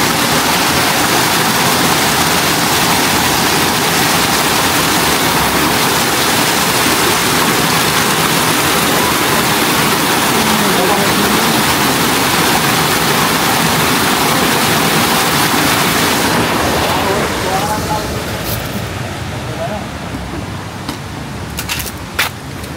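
Continuous loud rush of flowing water from a waterfall or stream below a rocky spot, steady and broadband for most of the stretch, then easing off slightly near the end.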